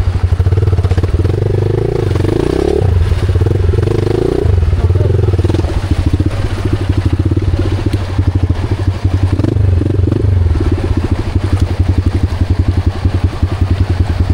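A motorcycle labors along a mountain trail, its engine chugging loud and close with a steady rapid throb, rising and falling with throttle while parts clatter and thump over rough ground.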